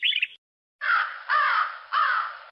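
Crow cawing three times in a row, harsh drawn-out calls with short gaps, preceded by a brief high chirp, clear and close with no other sound.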